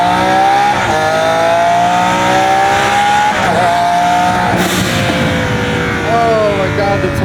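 A twin-turbo Lamborghini Aventador's engine roars loud and close throughout, with rising and falling revs under acceleration and brief tire squeal, while an excited voice talks over it.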